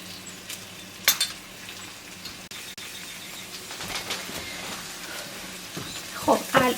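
Quiet sizzling of tomato and pepper paste frying with onions in a pan, with occasional clinks and scrapes of a utensil stirring, close by.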